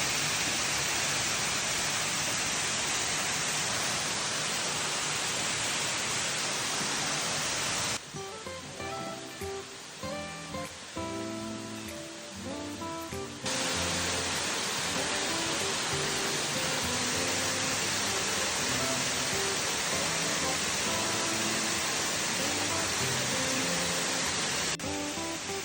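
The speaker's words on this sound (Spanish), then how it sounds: "Ahí estoy en la cascada" A waterfall in Mureung Valley, Korea roars with a loud, steady rush of water. A middle stretch is quieter and carries music over the falling water.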